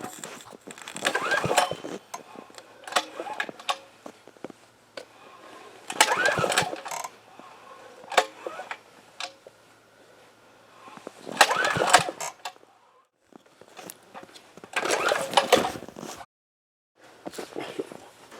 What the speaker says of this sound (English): Can't get a good crank on it because the motor's stiff. Pull rope frozen up.